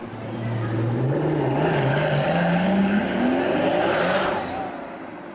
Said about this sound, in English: And then Davide leaves as only an Italian test driver can leave.